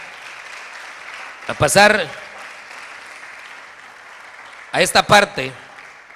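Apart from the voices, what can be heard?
congregation applause in church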